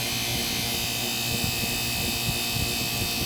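A vacuum pump motor runs continuously at close range while pulling vacuum on a kart engine, giving a dense, steady buzzing hum with no pauses and no voices.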